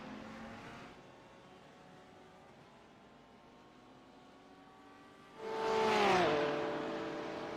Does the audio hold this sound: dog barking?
no